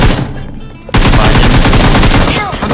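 Rapid automatic gunfire bursts out loud and close in PUBG Mobile after a brief quieter moment, sustained rattling shots over game ambience with faint talk.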